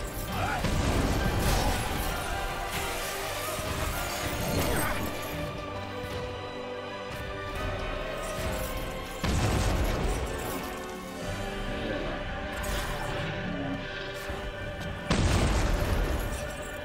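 Fire magic explosions in Final Fantasy XV Platinum Demo: repeated booming blasts and crashing impacts over dense game music and effects, with several heavier bursts standing out and a player talking over the action.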